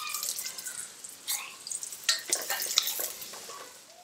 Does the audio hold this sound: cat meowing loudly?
no